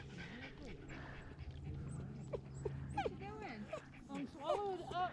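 A dog whimpers and yips in short, high, wavering cries beside the water at a kayaking spot, fairly faint, mixed with talking voices and steady background hum.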